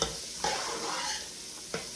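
Ingredients for an Italian meatball soup sauteing in a pot with steady broadband sizzle, broken by two sharp scraping stirs, close and fairly loud with no talking.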